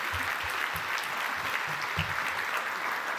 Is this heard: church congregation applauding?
yes